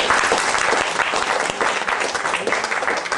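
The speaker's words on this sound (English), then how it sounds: "Can I have a huge round of applause for Minush," An audience applauds a volunteer called up on stage, producing dense, continuous clapping that fills the room at an even, loud level.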